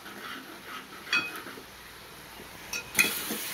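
A spoon stirs ginger, garlic and turmeric in hot oil in a pan for chicken curry, giving faint scraping with a few soft metallic clinks against the pan over a quiet background.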